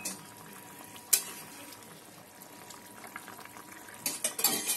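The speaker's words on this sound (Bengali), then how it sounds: "দিয়ে দিলাম চেরা কাঁচা লঙ্কা, ঝোলটা ফুটে গেছে এখানে।" Boal fish curry bubbles in a pan with split green chillies added, soft simmering under occasional clinks and scrapes of a utensil against the pan.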